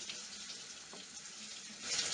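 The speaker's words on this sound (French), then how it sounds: "Parmi ses rituels, Patricia Nong se lave les mains des dizaines de fois par jour." A bathroom tap runs steadily as hands are washed, a soft continuous hiss of water close by that swells slightly at the end.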